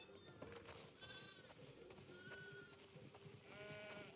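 Sheep bleat repeatedly over a dense, steady wash of ambient game sound, the calls rising as short wavering cries at moderate distance in The Last of Us Part II.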